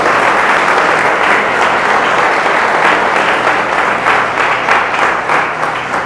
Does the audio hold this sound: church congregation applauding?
yes